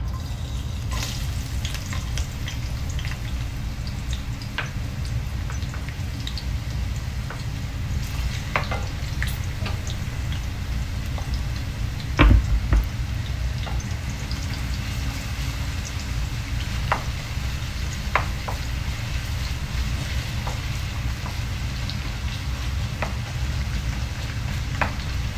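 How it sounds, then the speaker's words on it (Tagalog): Ginger sautés in hot organic olive oil, giving a continuous close sizzle and crackle, with occasional clinks and scrapes of stirring and no voices. "mainit na yung aking oil. Ayan ang unahin po yung igigisay ang ating luya."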